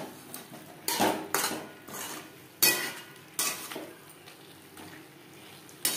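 A utensil scrapes and clanks around a pan as fried potato and pointed gourd are mixed into a spice masala, with a soft sizzle beneath the repeated stirring strokes, close up and without talk.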